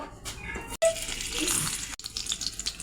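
Cut potatoes fry in hot oil for a chicken kosha dish, giving a steady close hiss with brief breaks and small clatters, no talking over it.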